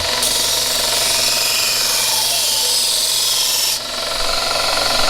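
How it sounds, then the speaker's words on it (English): A knife blade is sharpened along its whole length, from tip to heel, with a loud, continuous, harsh grinding roar that briefly dips before carrying on. "Now we're sharpening the whole blade from the tip all the way to the bottom."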